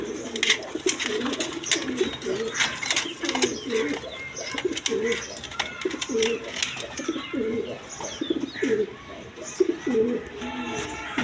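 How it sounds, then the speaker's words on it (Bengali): A pair of Lahori pigeons coo in repeated low, throaty phrases at a steady rhythm, close by, with occasional faint chirps in the background. "দর্শকবিন্দু এখানে এক পেয়ার লাহোরি কবুতর আছে দেখেন কোয়ালিটি সম্পন্ন কবুতর"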